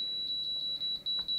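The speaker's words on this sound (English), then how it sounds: "beep, beep, beep, start." A Dash digital air fryer's control panel emits a steady train of short, high electronic beeps, evenly spaced and close by, with faint room noise underneath.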